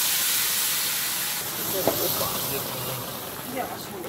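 Boiling hot water poured into a simmering soybean and potato curry gives a steady broad hiss that runs throughout, with a few brief louder bursts and faint background voices.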